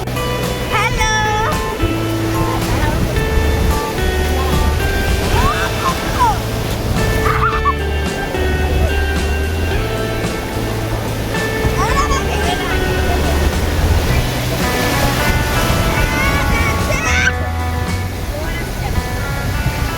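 Sea waves roll in one after another at Bakkhali beach on a rising tide, a loud continuous surf wash close by, with people talking and a dog barking over it.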